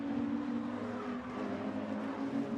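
Ginetta race cars at Oulton Park give off a continuous mid-distance engine drone with a steady tonal whine that rises and falls slightly as they pass.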